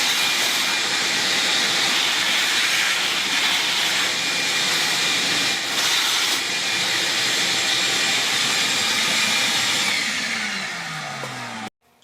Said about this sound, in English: I would take a shop vac and clean this up first before you put your new filter in